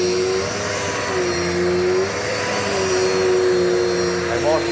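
A Dirt Devil multi-surface vacuum cleaner runs at full suction, a steady, loud motor whine with a sustained tonal hum and slight pitch wavers, close up and continuous without talk.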